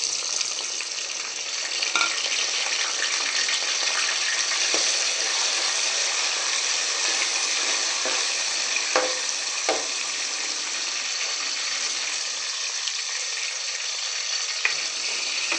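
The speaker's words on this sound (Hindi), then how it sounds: "अब हम इसमें डालेंगे टमाटर और हरी मिर्ची।" Tomatoes and green chillies fry with onions in a pan, a steady broadband sizzle holding for the whole stretch with a few faint clicks of stirring and no talk.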